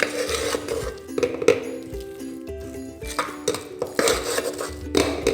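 Cooked moong dal is mashed in a pan with a metal utensil, giving irregular clinks and scrapes of metal on metal, close and moderately loud, in short bursts.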